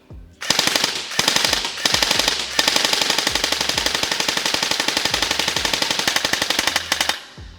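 A Classic Army Nemesis X9 gel blaster fires at a target in a loud, rapid automatic stream of sharp shots, with a few brief pauses before a long sustained burst.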